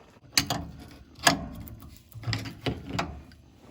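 An adjustable wrench works a nut loose on the front brakes of a classic 1960s Ford, giving a few sparse metallic clicks and clanks spaced out over a few seconds in a quiet garage.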